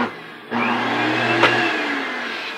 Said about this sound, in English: Let's vacuum this.